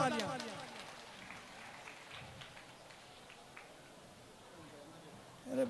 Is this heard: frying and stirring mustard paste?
no